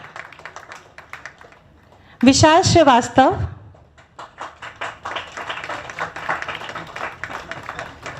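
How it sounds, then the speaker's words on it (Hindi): At a stage performance of a play about the Kakori train action, a patter of applause from the audience backstage runs steadily behind the announcer's voice, moderately loud and continuous, as a short sung phrase cuts in early on. "देखिए मंच के पीछे से तालियों की गड़गड़ाहट सुनाई दे रही है।"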